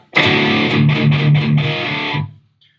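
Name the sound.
distorted electric guitar through attenuator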